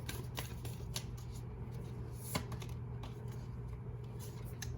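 Tarot cards shuffled and drawn by hand, a steady soft papery riffling with faint clicks and flicks, close and quiet, running throughout with no talk.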